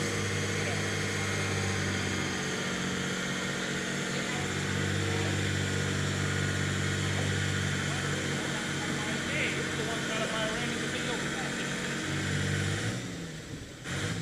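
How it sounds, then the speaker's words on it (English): Waukesha 265 engine in a 10,000 lb class pulling tractor at a county fair barnyard tractor pull, a loud steady mechanical drone running continuously with a shifting low throb, fading near the end, with people talking over it. "I think that's got that 265 engine in it right there."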